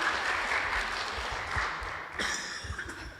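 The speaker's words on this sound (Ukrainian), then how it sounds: "Аплодуємо, підтримуємо." An audience at a Ukrainian science tournament closing ceremony applauds continuously, a dense loud clatter of clapping that swells briefly near the end.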